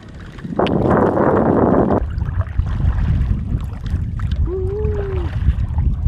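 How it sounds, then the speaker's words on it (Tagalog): Strong wind buffets the microphone in a constant rough roar, with a louder gusty burst early on and waves sloshing beneath. "Nalakas ang hangin"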